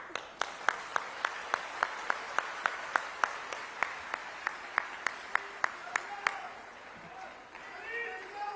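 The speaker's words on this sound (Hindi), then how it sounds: "जैसे ही आतिशी ने रोना शुरू किया वैसे ही तालियां बजनी शुरू हो गईं" An audience claps in a rhythmic, evenly spaced beat of sharp, loud hand claps that fades out near the end, with a voice speaking over it.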